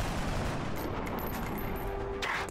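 Gunfire in the turn-based strategy game XCOM Enemy Unknown, a loud, dense burst of rapid shots and impact crackle filling the whole moment without speech.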